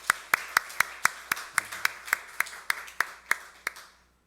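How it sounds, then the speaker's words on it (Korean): A small church congregation claps in slow, fairly even unison during a Sunday worship service, about fifteen crisp, close claps over four seconds before the sound stops. "박수로 하나님께 영광 돌리겠습니다."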